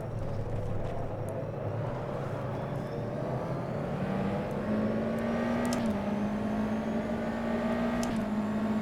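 A low-horsepower USF2000 spec race car in rFactor 2 on a test drive at Homestead-Miami, its steady engine drone holding a sustained tone with gradual pitch rises and short drops as it shifts, continuous and alone.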